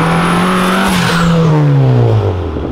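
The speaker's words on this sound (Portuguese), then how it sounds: "Tá vindo aí, ó, o Johnny aí, ó, com o carro dele" A 450-horsepower nitrous Volkswagen Jetta roars close by on an avenue at high revs, its engine pitch sliding down as it passes, loud and continuous.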